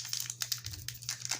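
A Bakugan Dragonoid trading card booster pack is torn open, its foil wrapper giving off short, close crinkles and rips in quick succession.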